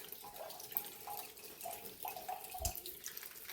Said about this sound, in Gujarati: હાવ માથેથી પાણી આવે છે